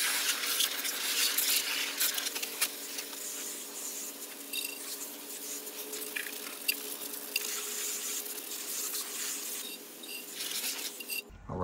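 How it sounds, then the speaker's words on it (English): A dirty barrel being rinsed off with a spray of water, giving a steady hiss and patter of water on the surface that runs continuously and close up before cutting off at the end. "Rinse everything off."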